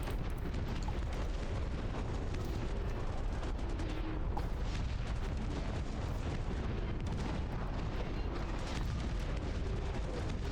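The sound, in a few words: artillery bombardment explosions in Dust Front RTS video game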